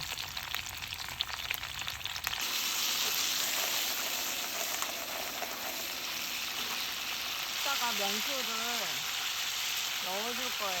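Clams sizzle and fry over high heat in a pan at a seaside autumn campsite, a steady crackling hiss close by that runs throughout, with a brief voice partway through.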